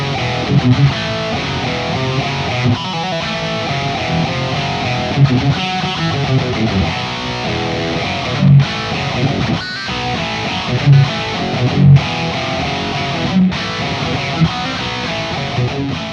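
An electric guitar through a Boss SD-1 overdrive pedal plays chords and picked notes of a song with a crunchy tone, loud and continuous, with no talking.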